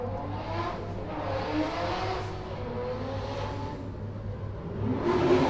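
A drift car at the Cyprus Drift Championship practice revs its engine in the distance, a sustained faint droning roar rising and falling with throttle, growing slightly louder at the end.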